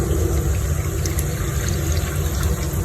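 A cup of water is poured onto garlic, cumin and coriander in a pot, giving a steady, close splashing rush that lasts the whole moment.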